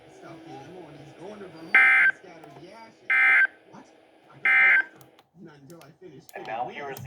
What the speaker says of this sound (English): This concludes the test of the no-weather radio warning alarm and the emergency alert system.